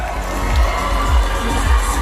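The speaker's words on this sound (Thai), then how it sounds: "เอาปรบมือดังๆครับ" A crowd at a beauty pageant in Narathiwat cheers and claps in a dense, steady roar, loud and continuous with children's shouts rising out of it.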